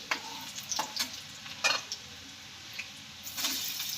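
Ground masala hitting hot oil with onions in a pan for a Maharashtrian prawn curry, a steady soft sizzle with stirring scrapes and a few clinks of a spoon against the pan.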